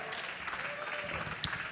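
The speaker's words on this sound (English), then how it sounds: "Please give him a round of applause." A crowd at a South LA social justice and job fair event claps in a steady burst of applause, with voices mixed in underneath.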